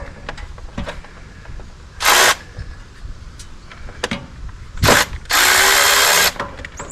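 Air cleaner fasteners on a Briggs & Stratton engine of a Scag Cheetah mower being loosened with a power driver, giving loud whirring bursts with short mechanical clicks and ratcheting between them, close up.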